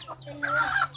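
A chicken gives a short, close cluck over a low steady hum.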